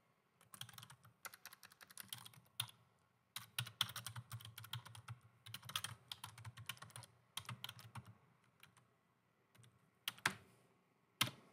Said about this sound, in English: And then I'm going to type in